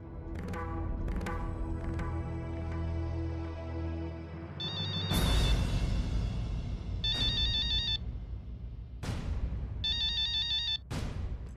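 Telephone ringtone chiming in repeated melodic bursts over loud background music and drama score, the rings sounding in short clusters with gaps between them.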